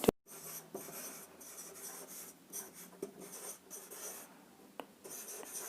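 Pen writing on a board as a teacher writes out the full form of the biology abbreviation IUCN, a steady scratchy run of strokes with brief pauses between words, close and fairly quiet with no talking.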